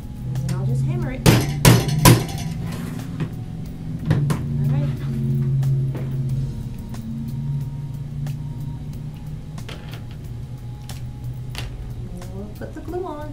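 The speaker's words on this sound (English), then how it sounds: "And I'll just hammer it." A hammer strikes several times in a quick cluster of sharp, loud taps, then once more, while a fall deco mesh wreath is being made. Afterward a low hum and faint background sounds continue.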